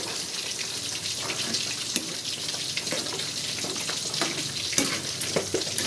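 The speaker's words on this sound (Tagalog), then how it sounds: "At ngayon naman po ay haluin natin ang ating niluluto na bulanglang." A pot of bulanglang vegetable soup is stirred, with a steady bubbling wash and scattered sharp clicks and scrapes from the utensil. There is no speech.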